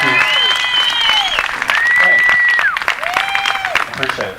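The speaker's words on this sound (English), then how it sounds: "I love an applause" Audience at a political rally applauding in a dense, sustained burst of clapping, with whistles and a voice rising over the crowd noise.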